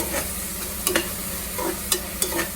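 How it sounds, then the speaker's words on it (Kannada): Onions fry in a pan with salt for a homestyle chicken biryani, a soft continuous sizzle broken by several sharp scrapes and clinks of stirring. "ಉಪ್ಪು ಹಾಕಿದ ನಂತರ ಈರುಳ್ಳಿ ಬೇಗ ಬೇಯ್ತಿದೆ"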